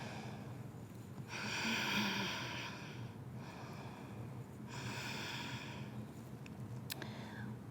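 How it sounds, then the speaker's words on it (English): Two slow, deep breaths drawn in and let out during a core exercise, each a soft breathy rush lasting a second or two, close and quiet. "Let's take some nice deep breaths there"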